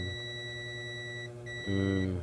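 Continuity tester buzzer sounding while probing parts of a faulty induction cooker, a steady electronic tone held throughout that shifts to a louder, harsher pitch near the end, with no voices.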